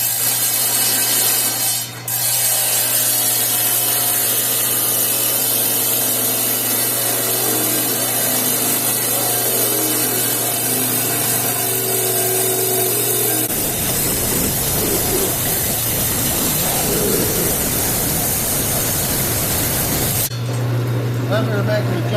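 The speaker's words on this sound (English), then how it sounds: "I'll cut this in real time and then I'll fast forward through it for you." Rock saw with water cooling cutting quartz carrying gold ore, a steady high grinding whine with a constant low motor hum throughout, the tone shifting partway as the blade works through the stone, with a voice speaking over it.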